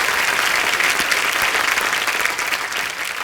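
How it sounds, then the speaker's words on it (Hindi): Studio audience at The Kapil Sharma Show, a Hindi comedy talk show, breaking into loud, dense applause that fills the room throughout and eases slightly at the end. "जोरदार तालियां सबके लिए"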